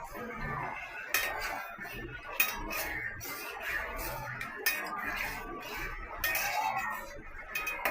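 A spoon stirs mutton kosha in a metal pot, giving repeated scraping clinks and knocks against the pot's sides in an irregular rhythm, close and moderately loud, with faint voice in the background.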